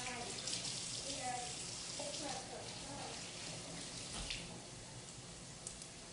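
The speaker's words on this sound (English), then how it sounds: "I'm just gonna rinse my pan." Tap water runs steadily over a cooking pan being rinsed in a kitchen sink, a continuous close splashing hiss with faint clinks, and a voice briefly audible underneath.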